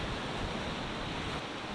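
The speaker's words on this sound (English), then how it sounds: "it's lighting up the waves as they roll in and crash on the rocks" Sea waves rolling in and crashing on rocks at night, a steady, dense wash of surf noise with a slight dip near the end.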